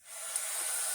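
Ink sprayed from a small spray bottle over paper scraps in a mixed-media craft session gives one steady, close, airy hiss that holds for about a second, with no talking.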